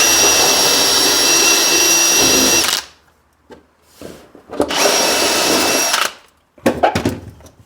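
Power drill boring a pilot hole into a wooden staircase riser: two loud, close whining bursts of about three and one and a half seconds, separated by quiet handling knocks, with a brief restart at the end.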